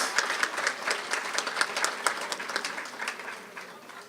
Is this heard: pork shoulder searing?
no